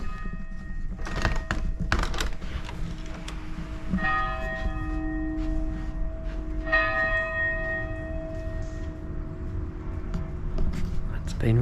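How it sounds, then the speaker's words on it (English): A church bell in central Puebla, Mexico, strikes two resonant, ringing tones a few seconds apart over steady rainy-morning background noise, with a person talking nearby. "there's a bell ringing"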